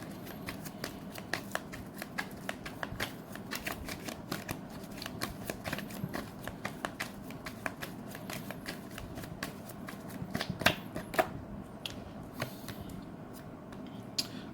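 A deck of tarot cards being shuffled near at hand: a continuous run of fast, crisp riffling clicks and flutters, steady throughout with a few sharper snaps near the end and no talking.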